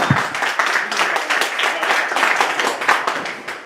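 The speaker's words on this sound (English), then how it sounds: "please put your hands together for Mr. Ryan Siebert and Pat Cardoni" A crowd claps for Ryan Siebert and Pat Cardoni at a real-estate event, a moderate burst of many hands with uneven, rippling intensity that eases toward the end.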